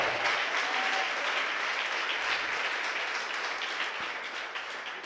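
A church congregation applauds during a sermon, a dense, steady wash of clapping from many hands that fills the room and fades slightly toward the end.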